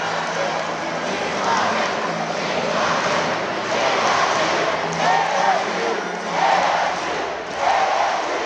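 A BYU crowd at a college volleyball match against ASU in Tempe roars in a sustained, loud wash of cheering and shouting that surges in several swells.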